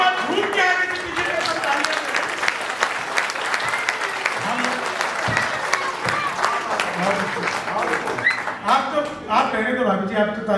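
An audience at a Hindi comic poetry gathering in Jamshedpur keeps up steady, dense clapping throughout, with a voice talking over the applause.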